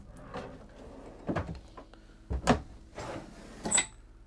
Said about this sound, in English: And check out these drawers.